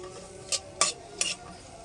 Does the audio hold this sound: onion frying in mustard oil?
yes